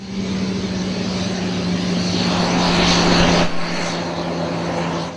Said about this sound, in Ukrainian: на посадковій смузі з'являється перший літак